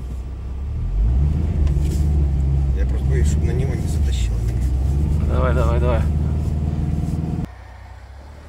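A car on studded Nokian tyres climbs a snowy hill, its engine a loud, steady low rumble that rises with effort and drops off sharply near the end, while people talk over it close by.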